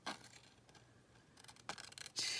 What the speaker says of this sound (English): we're going to cut them just like this with these great big huge scissors